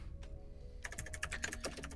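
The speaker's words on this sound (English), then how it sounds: "I have a typey keyboard" Rapid clacking keystrokes on a new, loud mechanical computer keyboard, a short close-up burst of typing that starts after a brief quiet moment.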